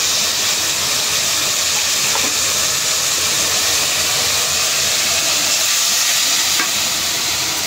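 Masala with cumin powder and green chilies fries in a pan, a loud, continuous, close hiss of sizzling oil that holds steady throughout, with faint stirring scrapes and no speech.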